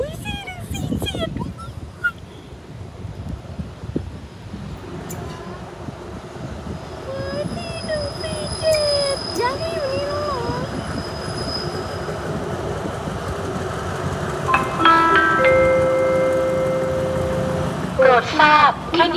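A train passing Salaya station in Thailand, loud and close, rolling with a steady rumble, metallic wheel squeals and a long high screech near the end, with voices talking over it.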